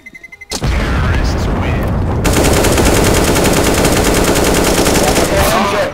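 Automatic rifle fire in Counter-Strike empties a full 30-round magazine in one long, loud, continuous burst of rapid shots, preceded by a few separate shots at the start.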